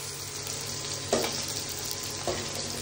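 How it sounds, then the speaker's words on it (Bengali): A fish head fries in hot oil, a continuous close sizzle with two brief bursts of spattering, no voices. "মাছের মাথা ভাজতে দিয়েছি"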